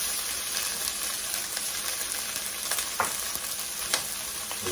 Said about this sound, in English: So the saucepan has been preheating. And so to that, I'm going to start adding onions.